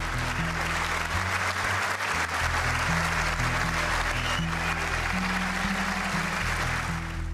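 A large audience applauds Medal of Honor recipients, dense continuous clapping and cheering that stays loud throughout, with a low droning tone underneath.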